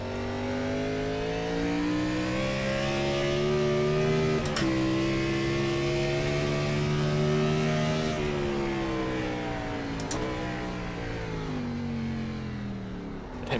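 Gen 4 Cup race car engines at Watkins Glen in iRacing, a loud, steady high-revving drone with brief shift dips and other cars passing alongside.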